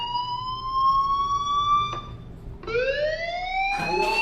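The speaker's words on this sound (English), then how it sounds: "Hey, do you hear that fire alarm?" In the video game Life Is Strange, a fire alarm sounds loud, clear, rising electronic tones. They come in a few repeated sweeps with brief breaks between them.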